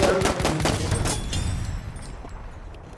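Rapid bursts of gunfire in the World War I shooter Battlefield 1, dense and loud for the first second or so, then thinning into scattered distant shots and fading rumble.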